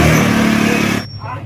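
A motorcycle engine runs loud and close, its harmonic drone holding for about a second before cutting off abruptly, with voices speaking around it.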